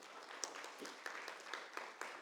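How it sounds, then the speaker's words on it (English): University lecture audience giving a round of applause in a hall, a faint, distant, steady patter of many hands with a few sharper claps standing out. "can we have a round of applause?"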